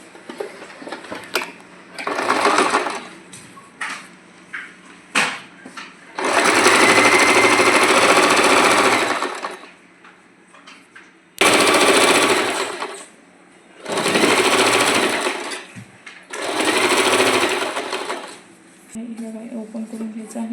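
A sewing machine stitches a blouse in repeated bursts, each run whirring loudly for one to three seconds before stopping, close by, with talk heard in the pauses between runs.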